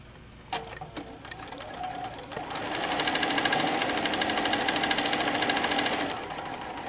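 Sewing machine stitching during machine paper piecing, a steady rapid mechanical whir that starts after a click and runs continuously, close and loud, with no talking.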